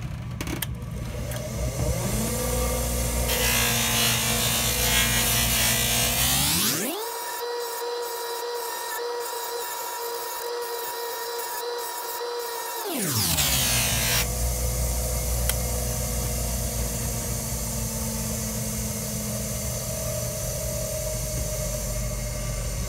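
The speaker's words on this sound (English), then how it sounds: "I'm going to take this over to the buffer really quick" A motorized buffing wheel polishes a Highland Park A-50 knife, a loud whirring drone that rises in pitch as the motor spins up, holds steady with the blade pressed into the wheel, then winds down.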